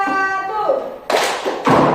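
A classroom of students claps in unison during a teacher's clap routine at the end of a lesson: two sharp bursts of group clapping follow a spoken voice.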